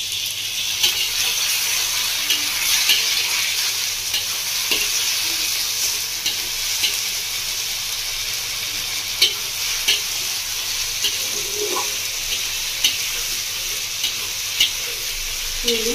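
Ground spice paste with ginger, black pepper and chili frying in a pan for a Bengali village-style bata fish curry, giving a steady loud sizzle with occasional scraping stirs throughout.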